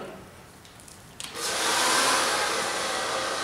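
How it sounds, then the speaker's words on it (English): A hair dryer switches on and blows steadily at close range over damp hair, a loud continuous broadband whoosh following a brief quiet start. "So we're going to begin blow drying."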